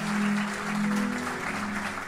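A church congregation applauds during a French-language sermon service, a continuous broad clapping wash with a low sustained hum or organ-like tone underneath, fairly loud and even.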